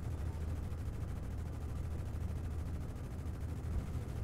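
Minigun fire in the space game Star Citizen, a steady, dense, unbroken roar of rapid shots that holds at a constant level for the whole stretch, with no talk over it.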